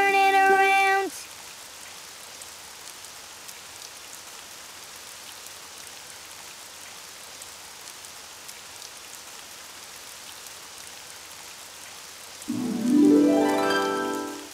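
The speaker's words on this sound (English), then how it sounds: "Oh, it's raining outside" Rain falls outside in a children's cartoon scene, a soft, steady hiss of drops filling the long middle stretch, bracketed by short bursts of bright tonal music at the start and end.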